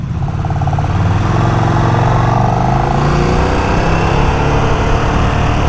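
KTM Super Duke 1390R EVO motorcycle with an Akrapovič exhaust, its engine loud and close, revving with rising and falling pitch as it accelerates.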